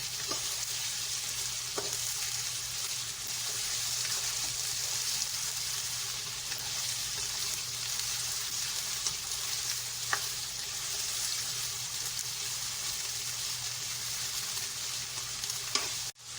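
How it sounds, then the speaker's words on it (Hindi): Continuous hissing sizzle of meat frying with garlic and ginger in hot mustard oil, steady and close, with occasional stirring scrapes and clicks. "ये देखिए हमारा गोश्त जो है वो लहसुन अदरक के साथ हम इसको भून रहेंगे"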